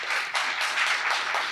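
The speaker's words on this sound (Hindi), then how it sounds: "तो एक बार प्लीज़ उनके लिए ज़ोरदार तालियाँ" Audience at a meet-up for candidates selected in a judicial services exam clapping loudly for a guest's husband, an even, sustained burst of many hands with slight surges.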